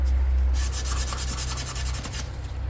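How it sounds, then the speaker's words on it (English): Steady rhythmic sanding strokes rub across a rosewood guitar body being prepared for a 2K finish, close and loud, a continuous rasping scrub with repeated back-and-forth pulses and no talk. "we're going to be sure to sand them very well"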